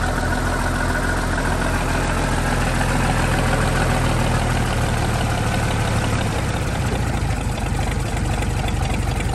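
A cold 1947 six-cylinder tractor engine idles steadily with a dense, even low rumble and mechanical chatter, loud and continuous with no talk over it.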